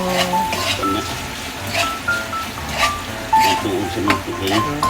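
Meat browning in a hot pan with soy sauce for a pancit dish, a loud close sizzle with steady stirring and utensil scrapes, under no clear talk.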